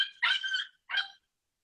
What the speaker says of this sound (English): It sounded like a dog slash monkey thing.